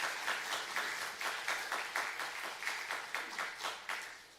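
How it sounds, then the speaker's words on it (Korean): A church congregation claps for its Hallelujah choir in a steady unison rhythm, sharp, fairly loud bursts repeating about three times a second across a reverberant sanctuary. "함께 먼저 박수로 우리 위로하고 격려하기를 원합니다"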